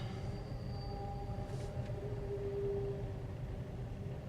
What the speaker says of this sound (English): tons of trains going by